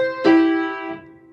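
A single piano note or interval in the right hand, struck cleanly and left to ring and decay for about a second in a quiet room, part of a rocking pattern between two intervals with no talking.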